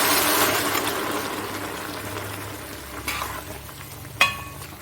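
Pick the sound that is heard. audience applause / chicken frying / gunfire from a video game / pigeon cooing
chicken frying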